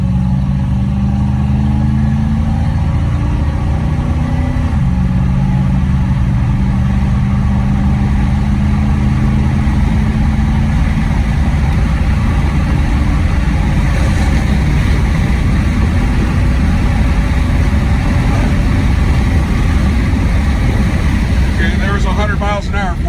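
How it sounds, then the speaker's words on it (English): A 1979 Magnum GT pulling hard on a flat road, its engine droning loud and steady as it climbs through the gears with audible shifts, rising toward highway speed under a man's occasional speech. "I think it's warmed up good enough to do a little acceleration test here."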